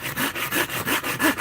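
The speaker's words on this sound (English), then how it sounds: "Top trick when you're sawing through hard, dry wood like this. Use a decent pull saw, definitely helps." A pull saw cuts through hard, dry wood while a bowl is being carved, with quick, even back-and-forth strokes, roughly six in a second and a half, close and clear with no talking.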